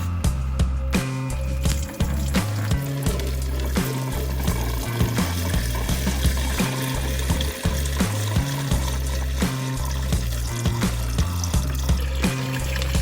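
Water drains steadily from the cooling pipe system of a Peugeot 205 with an aluminium pipe and rubber join, a continuous close trickle and splash with a low droning hum underneath and no voices.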